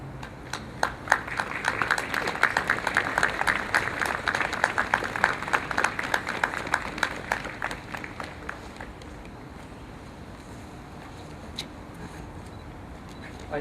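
Audience applause at an Estonian Flag Day ceremony in Tallinn, a dense burst of many hands clapping that builds over the first seconds, holds steady, then fades out by about nine seconds into quiet room tone.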